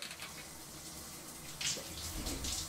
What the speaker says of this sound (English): I then have to wash her in the shower because she finds it difficult.